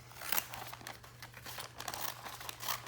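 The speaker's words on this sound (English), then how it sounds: "let's cut this bag open" A plastic bag is cut open up close, giving soft irregular crinkling and tearing rustles over about three seconds, with no speech.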